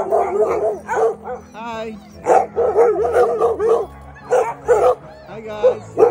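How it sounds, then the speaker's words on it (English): Sixty-eight sled dogs in a kennel barking, yipping and whining in bursts, close and loud, with a person briefly greeting them. "Oh my God, look at 68 dogs."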